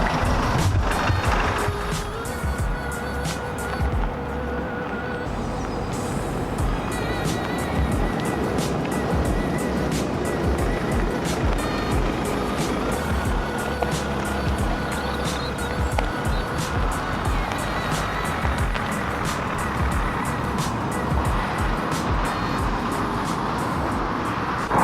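A 2018 Ssangyong Rexton SUV on its first test drive gives a steady, loud interior road and engine rumble for the whole stretch, with a regular ticking like an indicator and no talking.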